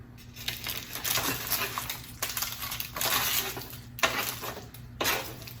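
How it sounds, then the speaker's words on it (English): A spoon stirs and scrapes cubed tofu, cooked with garlic, onion and soy sauce, around a pan, giving a steady run of close scraping and light clinking with a few sharper knocks, and no voices. "I usually give it a little stir with my spoon when it's done, just to kind of loosen it up from the pan."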